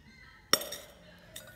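The metal inner pot of a Japanese rice cooker clinks once sharply with a ringing tail, followed by a fainter second tap close by in a quiet room.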